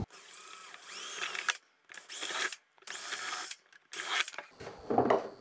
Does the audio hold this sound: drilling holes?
yes